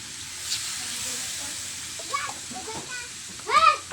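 Steady sizzling hiss of a hot cooking pan as water is poured in, with short bursts of voices breaking through the frying noise toward the end.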